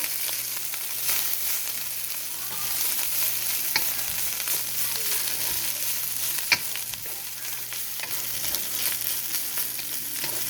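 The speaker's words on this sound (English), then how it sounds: "we're going to go ahead and start frying up your rice." Steady, continuous sizzling of rice frying in oil in a pan over low heat, with a few soft clinks and scrapes of stirring; no voices.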